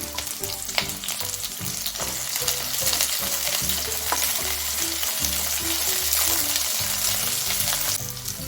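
Sliced onion frying in a pan for a hotel-style drumstick masala, a loud continuous sizzle with repeated spatula stirring scrapes throughout, no talking.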